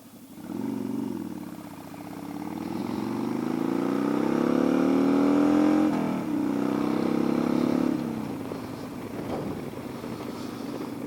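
A motorcycle engine while riding, a steady droning hum rising and falling as the revs climb and ease, close and continuous with wind rushing across the microphone.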